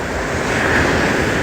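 Ocean surf washing up at Myrtle Beach, a loud continuous roar of breaking waves mixed with wind buffeting the microphone, no voices.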